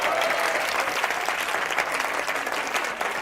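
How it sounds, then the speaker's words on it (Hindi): Loud, steady applause from a classroom audience greeting the newly married groom Manish, dense clapping sustained for the whole stretch with a few voices mixed in. "तो मनीष के लिए जोरदार तालियां हो जाए"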